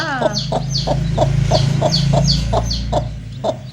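A hen clucks steadily in a regular rhythm while high, thin peeps from newly hatched chicks chirp repeatedly over a low background hum, close by.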